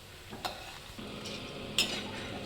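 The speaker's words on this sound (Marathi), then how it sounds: "डाळी काढून घेऊया चांगलं तळून घेऊया" Lentils fry in hot oil over low to medium heat, giving a faint, steady sizzle broken by a few sharp clinks of a spoon against the pan.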